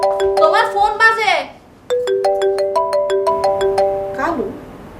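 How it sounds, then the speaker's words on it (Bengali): A mobile phone ringtone in a Bangla comedy drama scene, playing a bright, repeating electronic melody with a short pause before the tune starts again, loud and close. "তোমার ফোন বাজে।"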